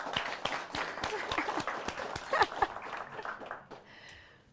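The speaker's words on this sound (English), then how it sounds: "So huge round of applause to Anthony sitting over there." Applause from a crowd at a Polish Tech Day 2023 event, a dense burst of clapping that builds and then fades out over a few seconds.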